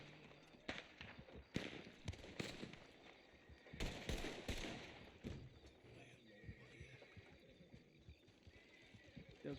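Gunshots ring out in the WildRP video game as a string of sharp cracks scattered over several seconds, mixed with horse sounds and heard under excited voices.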